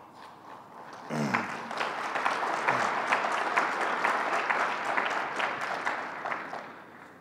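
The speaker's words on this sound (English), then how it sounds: "I was hoping that during that applause, somebody might bring me some food." Dense, steady applause from an audience at a governor's bill-signing event, starting abruptly after a moment of quiet and continuing loud and even for several seconds.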